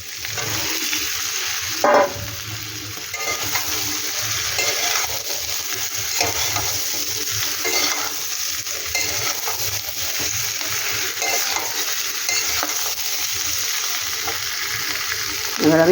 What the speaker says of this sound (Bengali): এবার আমি সয়াবিনটা দিয়ে দেবো